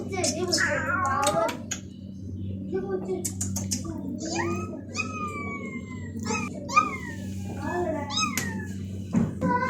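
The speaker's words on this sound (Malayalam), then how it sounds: "ഒരു ചെറിയ പൂച്ച" A small cat meows repeatedly, close and high-pitched, while someone talks intermittently nearby over a low background hum.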